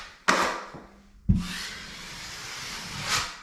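Drywall taping knife smoothing and tapering joint compound on a taped drywall seam, with two close, abrupt starts followed by soft, steady scraping strokes that swell slightly at the end.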